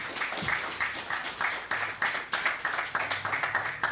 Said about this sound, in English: So clap for the progress that we've made.